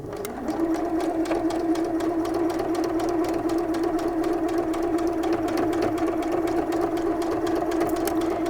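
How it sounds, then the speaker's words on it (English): A sewing machine runs continuously, stitching a pocket onto pajama pants straight along the raw edge with a 1/4 inch seam allowance. The motor hum is steady and close, with a fast, regular needle clatter throughout and no talking. "Now I'm going to go ahead and sew my pocket to my pant"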